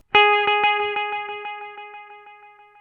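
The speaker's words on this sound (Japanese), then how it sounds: "はい、残響が残る設定です。" A BOSS RE-2 Space Echo pedal set so trails remain: one bright struck guitar chord repeats as a string of evenly spaced echoes, each slightly quieter, the tail ringing on and slowly fading.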